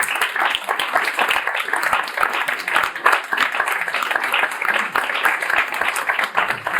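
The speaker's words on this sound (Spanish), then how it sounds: "ese aplauso también le va para él" Steady, dense applause fills the room at a book presentation in Valencia, a full audience clapping continuously and evenly throughout with no pause.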